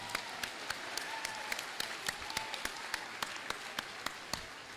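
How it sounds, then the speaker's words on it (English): A middle school ceremony audience gives another round of applause for the 8th grade concert choir, a steady mass of clapping with a few sharp, louder claps standing out close by. "Another round of applause."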